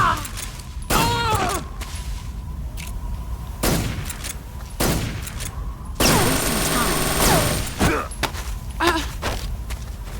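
Gunfire in Metal Gear Solid 3 comes as several sharp shots and short bursts with booming impacts, in the middle of busy game sound. A player talks over parts of it.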